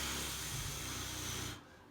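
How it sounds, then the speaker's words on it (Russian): Flutter-tongue on a simple folk pipe (dudka), a rolled-tongue r while blowing, gives a breathy, rapidly beating rush of air that lasts just over a second and a half, then cuts off. "Слышите у меня биение, как будто вертолет, да, где-то там вот, лопастью."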